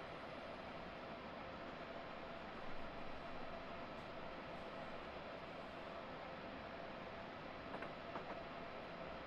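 A passing train in a train simulator game rumbles steadily at low level, a continuous hiss and rolling drone with a few faint clicks, no voices.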